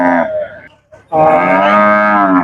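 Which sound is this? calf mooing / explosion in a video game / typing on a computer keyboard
calf mooing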